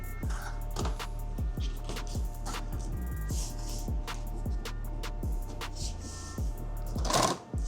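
A sewing machine stitching a custom-made bag runs steadily and close, its rapid needle rhythm repeating through the whole stretch with no talk, slowing briefly near the end.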